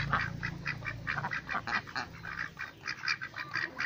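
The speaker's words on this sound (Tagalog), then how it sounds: "Ito po yung mga Peking duck." Peking ducks quack in a rapid, repeating chorus of nasal calls, fairly close and continuous, with no talking.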